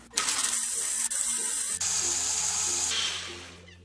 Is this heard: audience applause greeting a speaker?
no